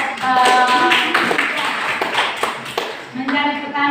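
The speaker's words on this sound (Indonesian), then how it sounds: "kita berikan aplaus untuk kelompok" Classroom applause for a student group, a dense crackle of many hands clapping at once, steady and close, with voices and tonal chatter running underneath.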